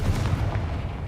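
A Confringo blasting spell explosion in a Harry Potter video game, a short heavy, rumbling boom that fills the moment with deep low energy and a brief rolling tail.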